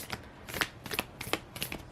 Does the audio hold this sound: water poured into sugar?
no